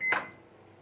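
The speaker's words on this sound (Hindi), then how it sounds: "माइक्रोवेव ओवन हमारा प्रीहीट हो चुका है, ये देखिए हो गया है।" A preheated microwave oven gives a single brief, quiet beep-like click that fades quickly in a quiet kitchen.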